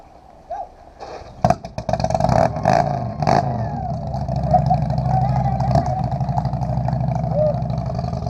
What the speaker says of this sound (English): if your bike starts making horrible noises when you try to start the bike